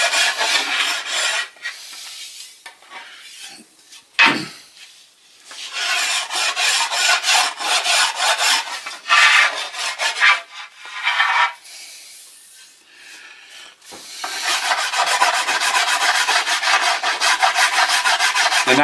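Rasp worked along the back of a wooden board bow to cut a bevel, with close, loud, rough scraping strokes in steady runs broken by short pauses.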